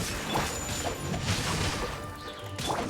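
Repeated crunching smash impacts from Genshin Impact as a character breaks through the ground, a string of loud, close bursts at uneven intervals over a steady bed of game noise, with no speech.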